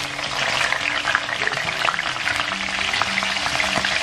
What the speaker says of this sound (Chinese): 把小葱段给它炸至微微变黄就即可